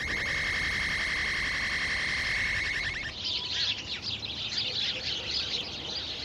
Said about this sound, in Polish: Wróble w górę uleciały